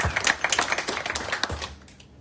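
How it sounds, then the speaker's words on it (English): Audience clapping at a public panel event, a burst of dense, quick claps up close that thins out and tapers off within two seconds. "Please give Hayley a round of applause."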